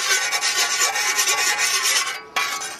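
A sharpening stone rasps steadily across a shovel edge by hand in close, gritty strokes. It breaks off briefly near the end and then resumes.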